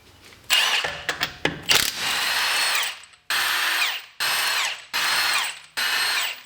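Power tool, likely an impact gun, removing the wheel lug bolts from a BMW E90 in a garage; a few short sputtering bursts, then five loud sustained whirring runs separated by brief pauses, close by.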